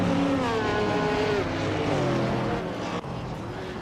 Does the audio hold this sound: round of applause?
no